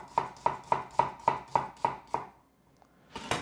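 Knife chopping a red onion on a cutting board, eight steady evenly spaced chops, close and crisp, then a short pause and one final louder knock.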